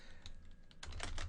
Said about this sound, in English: what we're going to do here is type in our new domain,